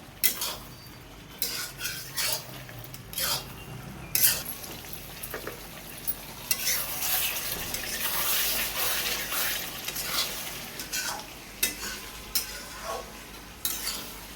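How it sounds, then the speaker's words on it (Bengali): Meat curry with onions being stirred and sautéed in a pan, utensil scraping and clinking against the metal in irregular bursts over a steady close sizzle, no talking. "আমি কষবো, ভালো করে কষে নেব। মাংস যত ভালো করে কষবো তত টেস্ট।"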